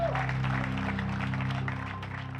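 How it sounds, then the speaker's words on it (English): A crowd claps for disc golfer Jacob Blair at the 2025 Krokhol Open, with brief, steady applause heard over a constant low hum from the public-address system. "Clap your hands for Jacob Blair."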